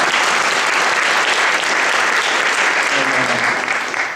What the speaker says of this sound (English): but clap for her